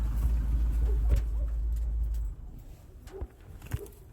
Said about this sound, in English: let me turn this truck off so you can hear me better